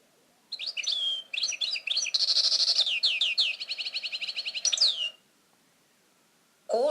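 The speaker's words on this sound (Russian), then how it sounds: "Щегол." A goldfinch singing: a lively, continuous stream of bright, twittering chirps and quick trills for about four and a half seconds, close and clear, then silence and a brief voice at the end.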